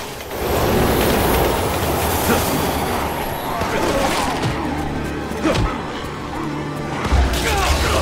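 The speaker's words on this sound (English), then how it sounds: "Look out! Train!" A train thunders past in the video game Resident Evil 6: a dense, loud, continuous rumble and roar lasting several seconds, with sharp clattering transients near the end.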